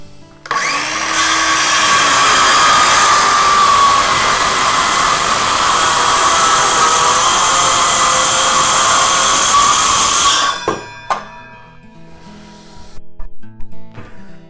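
A circular saw running along a track for a zero-clearance cut, its loud, steady motor whine holding for about ten seconds before spinning down, followed by faint clatter and handling noises.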